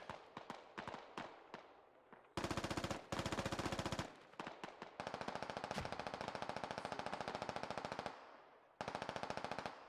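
Rapid automatic gunfire in the SquadOps military shooter game, loud repeated bursts of shots, some short and some sustained for several seconds, with brief pauses between them.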